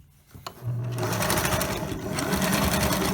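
A sewing machine stitches a tie onto a medical-surgical face mask, its needle motor starting after a few quiet clicks and then running steadily and loudly, close by, without a break.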